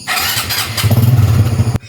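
A new Honda RS125 motorcycle fires up on a single press of the starter with a new battery, catching at once into a loud, close, chugging idle that cuts off abruptly.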